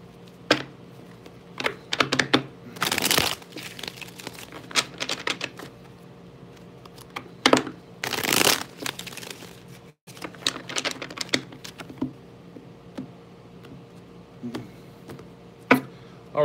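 Tarot cards shuffled during a daily reading, a run of crisp riffling and tapping bursts with two longer loud shuffles, close and fairly loud, with quiet gaps between.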